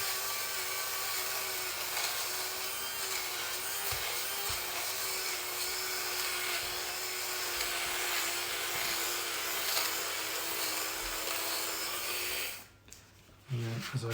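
Electric fabric shaver running over pilled knitwear, its motor giving a steady, fairly keen whirring buzz close up for about twelve seconds before it cuts off abruptly.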